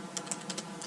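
Quick keystrokes on a computer keyboard while Python code is typed, several soft, distinct clicks in an uneven rhythm, close and faint.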